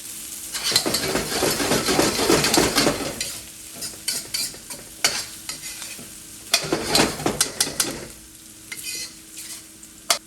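Garlic and ginger sizzle hard in a hot pan for pineapple fried rice, a loud steady frying hiss broken by repeated scraping stirs of a utensil against the pan.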